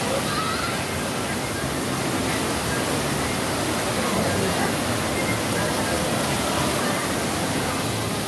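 Rushing water on a rapids ride at Universal's Islands of Adventure in Orlando, a steady loud roar of churning, splashing water that never lets up and fills the whole scene.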